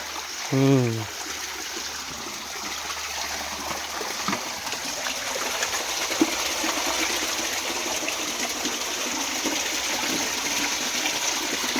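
Water from a waterfall flows in a stream, a steady broad rushing and trickling wash that fills the whole stretch, with a brief voice early on.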